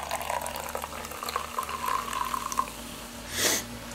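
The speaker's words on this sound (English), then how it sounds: "pour some into this glass" Mountain Dew Game Fuel Charged Original Dew soda poured into a glass: a close, steady liquid trickle running for about two and a half seconds, followed by a brief soft fizzing swell near the end, with no talking.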